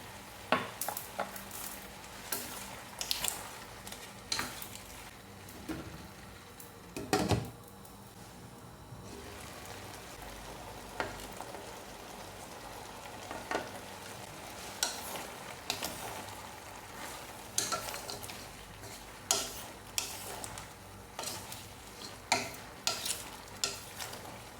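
Kosa fish with shrimp sizzles as it is sautéed with oyster sauce, with gentle frying under repeated close utensil stirs and clinks against the pan, moderately quiet and with no talking.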